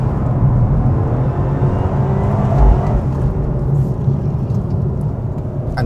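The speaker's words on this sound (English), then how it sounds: "You can hear the whine of the supercharger straight away." A Vauxhall VXR8 super-saloon with a supercharged engine is heard from inside the car, a loud, sustained drone and whir that swells slightly as it pulls, with no voices.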